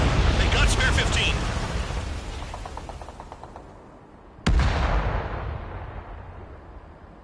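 Missile explosions in a combat flight video game: a sustained roaring blast fades out, then a sudden sharp second detonation hits and rumbles away, loud and close, with rapid gunfire-like crackle and voices heard in the background.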